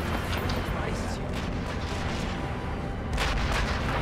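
Cannon fire in the sniper shooter game Sniper Elite V2, heavy booming blasts rumbling through a dense battle soundscape, with a fresh loud report near the end.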